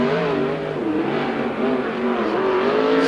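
A 410 sprint car with a Kistler Chevy engine on a qualifying lap at the USAC Oval Nationals, its engine loud and sustained at high revs with small dips in pitch as it works around the track.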